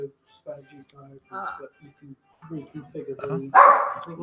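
A dog gives a few short barks and yips close by, mixed in with people talking at a judging session, with the loudest bark near the end.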